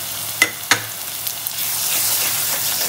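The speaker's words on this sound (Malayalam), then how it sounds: "ഇനി നന്നായിട്ട് അങ്ങ് മിക്സ് ചെയ്ത് നന്നായി മൂപ്പിച്ചെടുക്കണം" Soaked spice powders fry in a clay pot over a very low flame, a steady close sizzle broken early by two sharp scraping clinks of a stirring spoon, then a softer continuous crackle.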